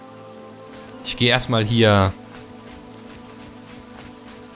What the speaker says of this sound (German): Diese Effekte wie das Wasser auf den Steinboden, auf den Sandboden eintrifft und die Erosion ihren Lauf nimmt.